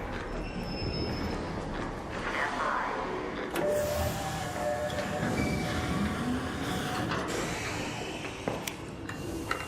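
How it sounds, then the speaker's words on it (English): A train pulls into the platform in the video game Arc Raiders, a steady rumbling, hissing roar with metallic squeals and clanks running throughout, while a synthetic announcer voice speaks briefly over it. "Train is on the platform. Opening doors."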